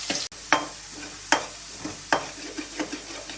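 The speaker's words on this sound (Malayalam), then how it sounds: "അമ്മച്ചി പറഞ്ഞ സ്ഥിതിക്ക് നല്ല അങ്ങോട്ട് ഇളക്കിയേക്കാല്ലേ" Pickle being stirred in a frying pan: soft sizzling with a few distinct scraping stirs at a steady pace, close and fairly quiet, with no talking.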